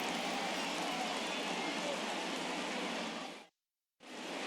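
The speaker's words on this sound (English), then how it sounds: "the rain that we're experiencing now is not expected to go away, and it's likely going to get worse" Steady, dense rain hisses down on a ballpark in MLB The Show 21, set in Chicago, a loud, even wash of noise that cuts out briefly to silence and then resumes.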